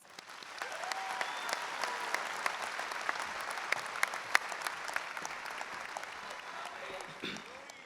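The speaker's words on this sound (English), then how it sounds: "Let us give these very important people a round of applause." A graduation audience at a high school ceremony breaks into sustained applause, rising quickly and holding steady as a thick wash of many hands clapping in a large hall, with a few sharper claps standing out.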